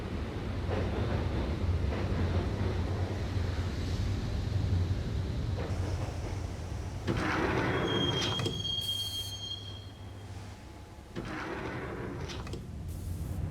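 Subway train ride in the Max Payne video game, a loud steady rumble of rolling railcars with rising metallic wheel squeals and screeches toward the end, heard alone.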